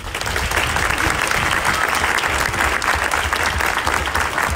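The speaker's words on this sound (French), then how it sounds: "On vous applaudit, Inès." Sustained audience applause fills a studio, dense and loud clapping from many hands throughout, steady from start to finish with no talk.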